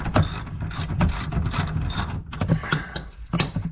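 A ratchet with a socket turns out a lower control arm bolt on an Audi TT, giving close, crisp bursts of rapid clicking in uneven strokes with brief pauses between.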